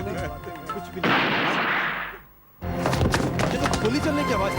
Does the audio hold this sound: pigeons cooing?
no